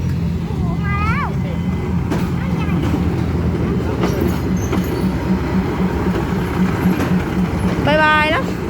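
A train passes close by, with a loud continuous rumble, rhythmic wheel clatter and high squeals. Voices talk excitedly over the noise.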